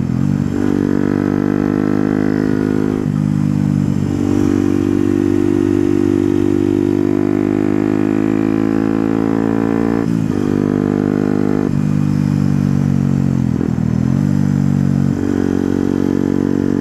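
A Yamaha WRX 125 motorcycle fitted with an Arrow exhaust idles loudly up close, with a deep single-cylinder thrum broken by several blips of the throttle into short rising revs.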